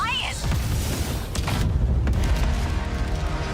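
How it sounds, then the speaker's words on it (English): Deep booms and rumbling blasts of artillery fire pound continuously in a Final Fantasy VII game trailer, loud and close, with voices talking over the barrage. "Enemy artillery intensifying."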